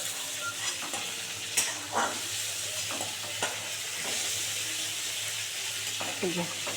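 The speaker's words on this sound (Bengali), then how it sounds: "1 মিনিট ভেজে নেবো চিংড়ি মাছগুলো বন্ধুরা।" Prawns fry in hot oil, giving a steady, close sizzle throughout with occasional scraping stirs and soft clinks from a utensil.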